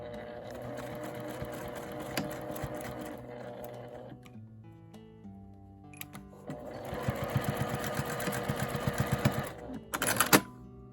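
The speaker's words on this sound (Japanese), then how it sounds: "開いて4センチのまちを縫います" Sewing machine stitching a 4 cm gusset in quilted nubi fabric, two close bursts of rapid, steady needle clatter separated by a quieter pause, ending with a brief sharp click.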